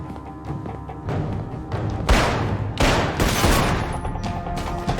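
Gunfire from a scene in the Fringe TV episode 'The Road Not Taken', with several loud, rough bursts of shots cracking over a dense, rumbling background.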